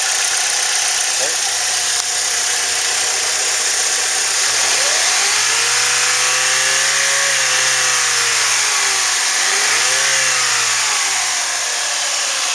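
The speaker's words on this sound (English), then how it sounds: "Motor runs really good." A Saturn Ion with a 2.2-liter engine, 5-speed and EGR, at 187,298 miles, runs loudly and steadily close by, rising through two distinct revs that climb and fall back to idle.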